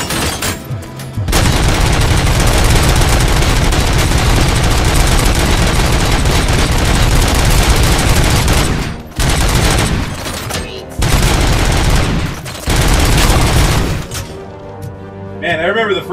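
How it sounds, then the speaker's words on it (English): Robots exploding in a video game amid dense, loud gunfire and booming blasts that run almost nonstop, broken by a couple of brief pauses, with voices mixed in underneath. "I can't hear what this guy's saying over all his robots exploding."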